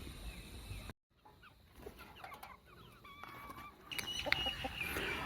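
Chickens cluck and call near and far while being fed soaked wheat, with small clinks and pecking sounds coming and going, and a brief dropout early on.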